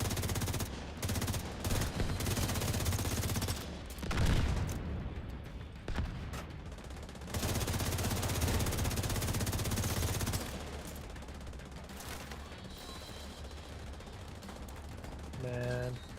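Rapid automatic gunfire from SMGs and shotguns in a video game, loud dense bursts filling most of the stretch with brief gaps, under a player's voice.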